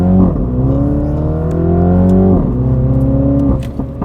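Mini JCW car accelerating hard, loud engine note climbing in pitch through two gear changes, with small crackling exhaust pops between the pulls.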